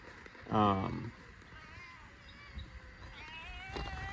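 A loud, close cat meow with a few fainter mews after it, over outdoor background noise.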